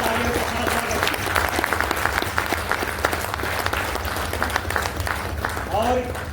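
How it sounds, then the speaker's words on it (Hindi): Sustained applause from a conference audience at a human rights association gathering, dense steady clapping filling the room for several seconds with voices mixed in. "आप लोग तालियों के साथ स्वागत"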